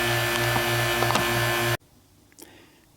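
Vacuum pump drawing down a Vintage Air AC system on a 1976 Corvette restomod, a steady loud mechanical hum with a tonal whine, running alone before cutting off abruptly, leaving quiet room tone with a faint clunk.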